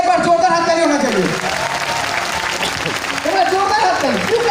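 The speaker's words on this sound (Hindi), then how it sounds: "इसके लिए चाहूंगा APLL के लिए एक बार जोरदार हाथ ताली होना चाहिए।" A training-session audience claps steadily in a hall while a speaker's voice rises over the applause at the start and again near the end.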